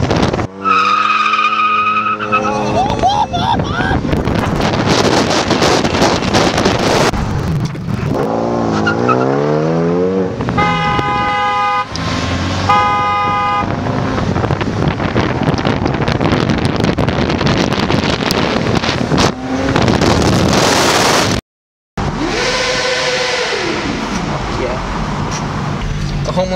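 A car revs and drives past outdoors with wind buffeting the microphone, rising and falling engine pitch and tire skid sounds, loud and close, with brief talk between passes.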